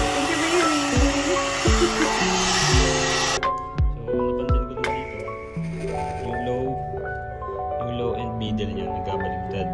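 A two-in-one hair dryer brush blows loudly and steadily at first, then cuts out, leaving softer whirring while a voice talks over it.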